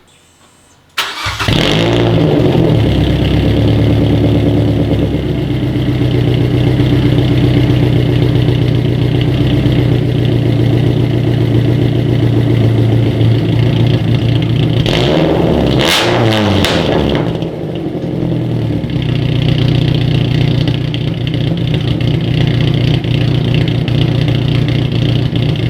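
A cammed 2.5-litre NC Mazda Miata with its muffler deleted through an ISR setup cranks and fires, then settles into a loud, raw idle, with a sharp burst of revving partway through before it drops back to idle.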